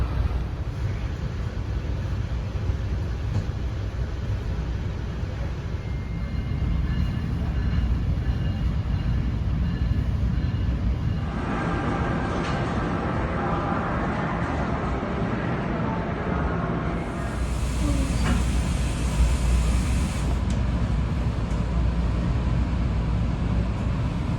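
Interior of an NJ Transit commuter train on the Northeast Corridor departing New York, with a steady loud low rumble of the railcar and a hissing, brighter surge of air partway through during the brake check.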